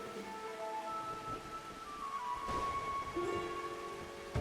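Rain falling in Final Fantasy XIV, a soft steady patter under tonal game ambience and a faint rumble, low in level and continuous for the whole stretch.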